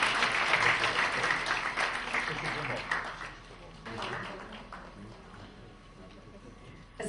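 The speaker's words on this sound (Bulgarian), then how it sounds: "Аплодисменти още веднъж за Таня Скини." Applause at a fashion awards ceremony, a crowd clapping loudly at first, then thinning and fading to a softer patter over several seconds.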